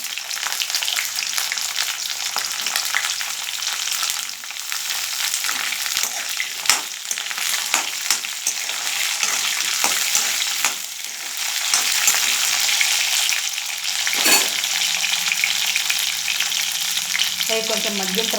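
Drumsticks with curry leaves frying in a pan for sambar: a continuous close, loud sizzle and crackle runs throughout, with occasional clinks and a sharper hiss of sudden spattering near the end.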